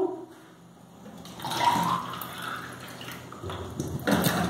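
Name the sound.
pouring more water into a container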